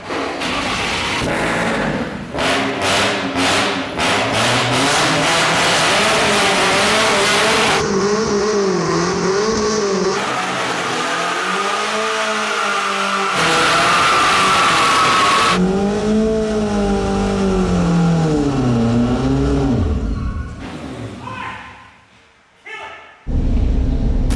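A loud, push-button-started car engine with nitrous and an overly long exhaust revs repeatedly, its pitch rising and falling through long sustained pulls, with some voices under the roar.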